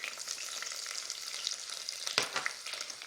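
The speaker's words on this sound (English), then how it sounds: "So we want to saute this for at least 30 seconds." Sliced onion and garlic cloves sauté in hot oil for Jamaican curry chicken, producing a continuous close crackling sizzle with a sharper stirring clatter partway through, no voices over it.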